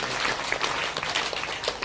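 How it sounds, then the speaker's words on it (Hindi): An audience at a Shiva Purana religious discourse applauds in a steady, dense wash of clapping that lasts the whole clip. "तालियां बजाओ"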